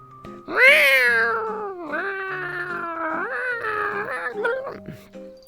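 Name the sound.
person imitating a menacing cat meow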